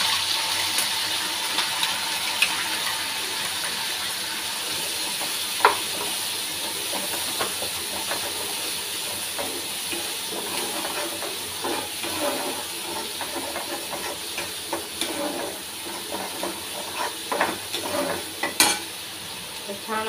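Ground wet spice paste (vatan) sizzles and hisses in a pan with cumin and curry leaves while a spoon stirs and scrapes, steady frying noise with intermittent clicks of stirring, close and continuous for potato rassa bhaji, no talking.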